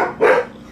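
A dog gives a single short, loud bark nearby in a workshop where an electric fat-tire bike is being fitted with light bars.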